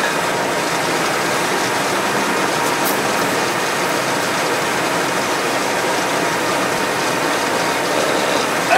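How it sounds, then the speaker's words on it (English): A 1979 Evinrude 55 hp outboard motor cranks over slowly on a weak starter, a continuous rhythmic churning and ratcheting that stays loud and close throughout without catching. "Can't get this thing to spin over any faster than that. Crappy starter."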